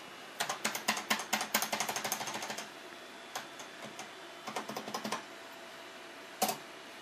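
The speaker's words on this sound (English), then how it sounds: "Here's my keyboard. It's a Microsoft Internet keyboard." Typing on a Microsoft Internet keyboard: rapid bursts of crisp, close key clicks, a fast flurry at first, then sparser clusters of keystrokes with short pauses and one final louder tap.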